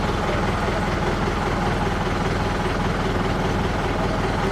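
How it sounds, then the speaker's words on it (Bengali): A bus engine idles steadily after being started, a continuous low rumble held at an even, fairly loud level throughout with no talk. "ড্রাইভার গাড়ি স্টার্ট দিয়ে দিয়েছে, এবার ইঞ্জিনে হাওয়া তুলছে"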